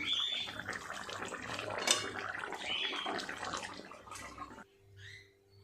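Mustard fish curry made with sharpunti fish (jhal) is poured into a dish in a soft, continuous wet pour lasting a few seconds, then it stops abruptly and leaves near silence.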